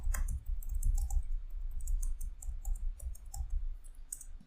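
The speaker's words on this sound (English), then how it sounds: "So let me type it." Rapid clicking of a computer keyboard as code is typed, a steady stream of light keystrokes with brief pauses, close and fairly quiet, no talking.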